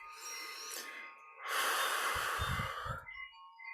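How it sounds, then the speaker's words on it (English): Deep breathing in and out during a quiet meditative session, with a long airy inhale-exhale and some low rumbling near the microphone, close and fairly loud, no talking. "Deep breaths in and outs."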